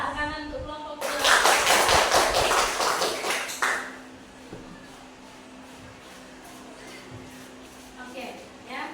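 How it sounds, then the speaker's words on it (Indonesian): A classroom group claps for about three seconds, a dense burst of applause from many hands close by, then fading into quiet room tone. "Tepuk tangan untuk kelompok kedua"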